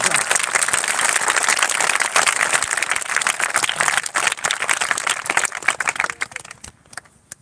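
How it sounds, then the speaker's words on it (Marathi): Students at an academy results gathering clap hard together in a thick, rattling burst that holds for several seconds, then thins out and fades near the end, with voices faintly mixed in. "एकदा जोरदार टाळ्या वाजवा"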